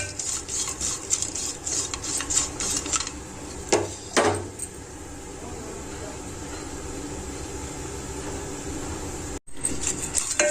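Grated dry coconut and chana dal frying slowly in a pan, a steady soft sizzle with scraping stirs throughout and a couple of louder clanks of the spoon against the pan midway.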